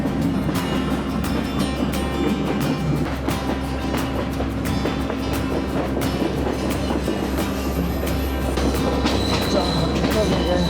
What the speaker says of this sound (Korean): 산속 녹차밭을 따라서 구불구불 천천히 달리는 기차는 정말 매력적입니다